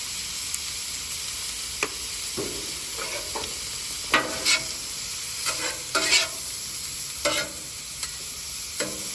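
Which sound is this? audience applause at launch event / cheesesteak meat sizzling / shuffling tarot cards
cheesesteak meat sizzling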